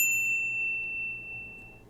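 A single bright notification bell ding strikes at the start and rings out with a clean, slowly fading metallic tone, alone against near silence.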